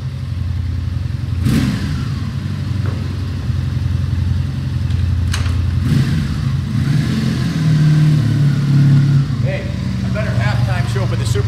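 A 1985 Honda V65 Sabre motorcycle engine runs steadily at a loud, rumbling idle with slight swells, while someone talks over it throughout.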